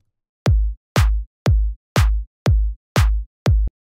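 A booming electronic kick drum pattern for a dance remake plays with a sharp clap layered on the offbeat hits, giving seven evenly spaced, punchy beats with no other sound.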